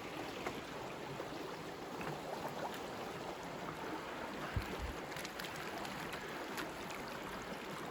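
Little Salmon Creek runs past a forest campsite with a soft, steady wash of flowing water, faint and even throughout, broken only by one small low thump.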